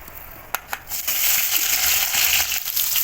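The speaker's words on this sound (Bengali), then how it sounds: "এবার দিয়ে দেবো কেটে রাখা পেঁয়াজ।" A couple of sharp clinks, then a sudden burst of loud sizzling as chopped onions hit hot oil with whole spices and keep frying steadily.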